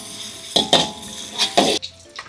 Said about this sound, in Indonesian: Tumis ikan teri dulu teman-teman. Sedikit aja, tumis sampai dia garing ya.